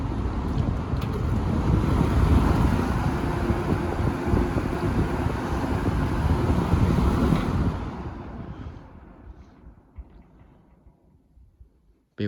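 Vintage 1986 Sears 8121 box fan running on high, a steady loud broadband whoosh of moving air that holds for several seconds, then fades slowly as the blades spin down toward silence.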